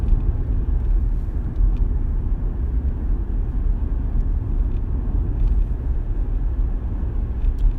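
A car driving along a wooded road on the way to the Poconos, a steady low engine and tire rumble from inside the cabin, continuous and fairly loud, with no talking.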